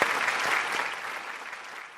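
Applause from a studio audience for a guest on a radio broadcast, a continuous wash of many hands clapping at moderate level that thins slightly toward the end, no speech over it.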